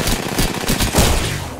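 Rapid gunfire in Apex Legends, a dense run of close, loud shots across the whole moment, consistent with a shotgun exchange in a chaotic firefight, with no talk.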